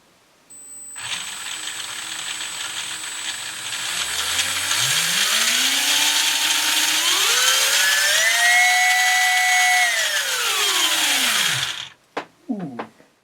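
Electric motors and gearboxes of a Tamiya ClodBuster RC truck whine close up, the pitch climbing in steps to a high steady scream, then winding down and stopping with a few clicks.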